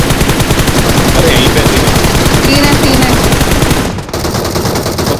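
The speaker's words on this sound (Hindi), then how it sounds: "गैज हमने बयालीस गोलियां चलाई" Assault rifle fire from the BGMI mobile battle-royale game rattles in a loud, rapid, unbroken automatic burst that stops abruptly near the end, with a brief spoken remark over it.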